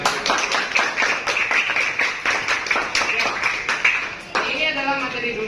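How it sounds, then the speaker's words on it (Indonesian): Students in a junior high maths lesson clap together in a quick, uneven patter of distinct hand claps for several seconds, before a teacher's voice resumes talking near the end. "Oke, tepuk tangan semuanya."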